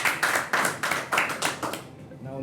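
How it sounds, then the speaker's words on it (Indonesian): About eight rhythmic claps from a small audience during a talk show about jiu-jitsu athletes, moderately close and steady, with some speech mixed in before they fade out. "Kita beri tepuk tangan juga buat Mas Dedi."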